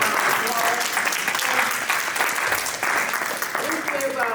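Audience applause at a community event for a newly titled doctor, steady clapping with a few voices calling out and chatter mixed in throughout.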